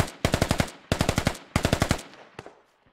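Automatic gunfire in the military shooter game Squad: three loud, close bursts of rapid shots in quick succession, followed by a few scattered single shots fading off, with no talking.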